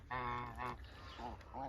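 Farm geese give several honks, drawn-out nasal calls with short gaps between them, moderately faint, with a brief bump at the end.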